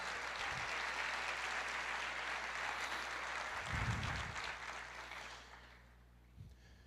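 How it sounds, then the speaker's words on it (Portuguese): Church congregation clapping during a sermon, a broad steady round of applause with a low hum underneath and a brief voice in the middle, fading out to near silence at the end. "Dê uma salva de palmas para o Senhor."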